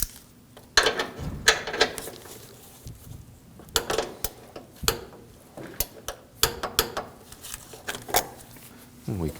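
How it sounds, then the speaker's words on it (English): Torque wrench tightening the bolt on top of the passenger-side frame rail of a 2016-2022 Honda Pilot, giving several bursts of sharp ratcheting clicks with pauses between them, close up. "We can torque the bolt on the top of the frame rail on the passenger side to 16 foot-pounds."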